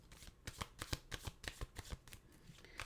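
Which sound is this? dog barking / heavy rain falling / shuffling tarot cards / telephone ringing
shuffling tarot cards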